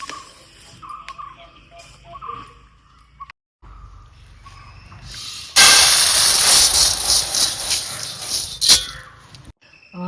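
Roasted coriander seeds pour out of a hot pan in a village kitchen. After a few quiet clicks and scrapes comes a sudden loud, dense hissing patter of seeds streaming out for several seconds, then a sharp stop.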